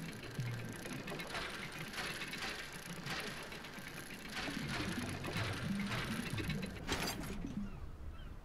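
Dredging machinery in the Dredge video game runs as a continuous, fairly quiet mechanical clatter of ratcheting and grinding gear noise.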